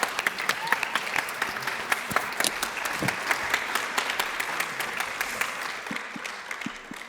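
Ongoing audience clapping at a French debate final, steady dense applause from a crowd with some sharper individual claps, gradually tapering off near the end.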